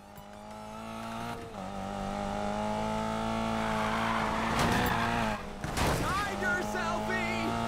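Engine noise from a car in a video game with tire squeal as it drifts at speed, steady and loud throughout, with a brief harsh burst near the end and voices over it.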